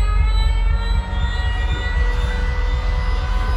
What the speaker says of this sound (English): So the air raid sirens are sounding